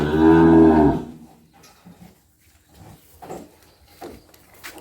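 A cow on a Thai cattle farm gives one loud, close, drawn-out moo lasting about a second, followed by quiet farmyard ambience with faint knocks and shuffles.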